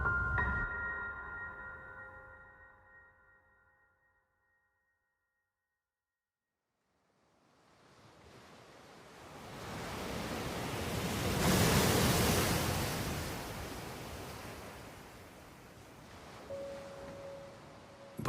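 Ocean waves wash onto the shore in a broad, soft surge that builds, peaks and slowly recedes after a short stretch of near-silence, with nothing else heard over it.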